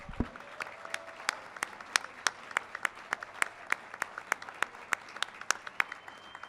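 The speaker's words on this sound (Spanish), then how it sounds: "Me gustaría pedir un fuerte aplauso para ellos y ellas" An audience at a talk marking a venue's seventh anniversary applauds the people who run it. The clapping is steady and moderately loud, with sharp, fairly rhythmic claps standing out above a softer wash of hands throughout.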